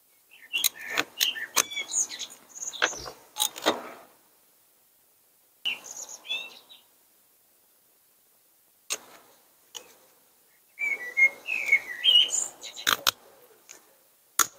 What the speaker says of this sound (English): Where are you, Mr. Bird?